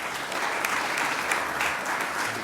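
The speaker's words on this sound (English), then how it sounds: "give a big round of applause for my good friend and your good friend, Secretary Lynn Peters." Audience applause at a university groundbreaking event for a coal/biomass-to-fuel facility, a loud, dense, continuous roar of clapping filling the whole moment.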